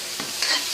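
Shredded smoked fish (tinapa) being sautéed with tomato in a pan for mung bean stew, a soft sizzle with two quick stirring scrapes, close and alone.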